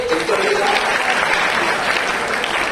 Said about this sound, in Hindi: जोरदार तालियां अंकिता के लिए